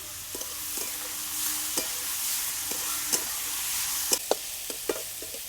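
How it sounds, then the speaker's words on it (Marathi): Tomatoes frying with onions in a pan for soybean bhurji, a soft steady sizzle with occasional spoon scrapes and taps against the pan, close up with no talk. "आता टोमॅटो पण चांगलं परतून घ्यायचं आहे"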